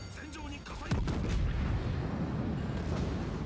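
Naval gunfire shell hits in the World of Warships video game, a single deep booming impact rumbling out under ongoing game sounds, with commentary audible just before.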